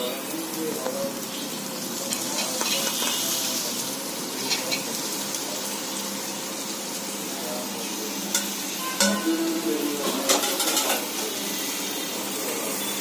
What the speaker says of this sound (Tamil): தக்காளி போட்டு நல்லா சுருங்க வதக்கணும்